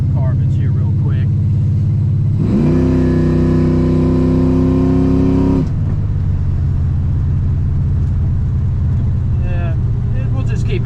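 Motorcycle engine revved up hard for a few seconds to clear carbon, then settling back to a loud, throbbing idle, with no one talking.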